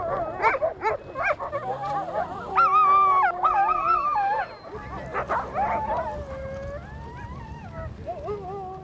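Sled dogs in the Arctic howl and yelp together in a long, wavering chorus, loud and close, with overlapping rising and falling howls.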